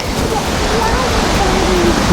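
A waterfall at Falls of Hills Creek rushes in a steady, full broadband roar that fills the short moment evenly, with no pauses or change in level.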